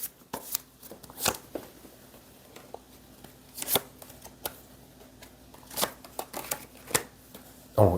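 Tarot cards are shuffled and drawn near the microphone: crisp papery riffles and sharp flicks come in irregular bursts, with quieter slides and taps between them.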